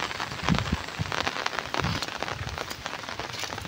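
Rain keeps falling over a flooded area in Lopez, Quezon Province, Philippines, a steady close patter of drops on surfaces with a few louder splashes, heard alone without voices.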